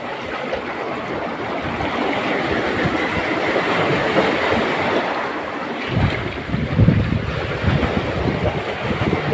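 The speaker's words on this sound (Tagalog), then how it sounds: "ang lakas talaga ng alon dito" Strong sea waves at a shore, a loud continuous rushing wash of surf with heavier crashing surges building and breaking near the end.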